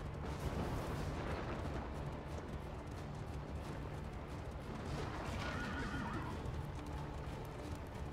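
Horses neigh and hooves clop steadily in Darkest Dungeon II, a continuous dense rumble of travel with rolling low noise and no speech.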